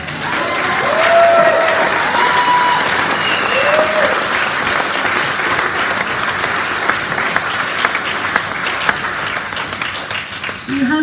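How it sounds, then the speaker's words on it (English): A large crowd at a Canada Day 150 celebration in Bridgetown, Barbados cheers and applauds loudly and steadily, with scattered shouts and whistles rising over the sustained clapping, which fades near the end. "Can you cheer them?"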